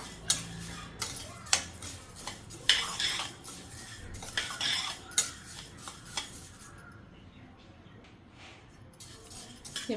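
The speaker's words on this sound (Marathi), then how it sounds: "आता आपण मसाला तयार करण्यासाठी हे जे धणे वगैरे घेतले होते ते भाजून घेऊया" Coriander seeds and spices dry-roasted in a pan, a spoon or spatula scraping and clinking against the metal in irregular strokes, with faint rattling of the seeds between, then quieter toward the end.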